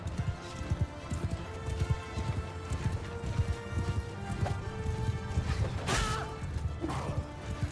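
Several horses gallop in the Mount & Blade II Bannerlord battle game, with rapid drumming hoofbeats near and far, a couple of sharp impacts and a whinny breaking through the rhythm.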